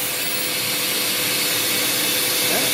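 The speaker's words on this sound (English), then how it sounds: "Now it's changing blades." A CNC router with a vacuum pump hold-down changes blades on a wood job, giving a loud, steady whirring machine roar throughout.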